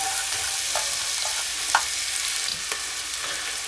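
Diced onion sizzles in hot olive oil in a pan, a steady, fairly quiet broadband hiss with a few faint clicks and pops, close and continuous with no talking.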